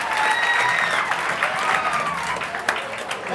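Audience at a college prize distribution ceremony breaking into loud, sustained applause, dense clapping close and continuous throughout, with a few crowd voices mixed in.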